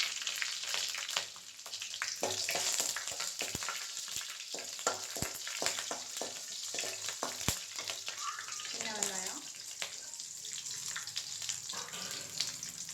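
Curry leaves and green chilies go into hot oil for sambar, giving a steady close crackling sizzle with stirring clatter and a few brief sharp pops.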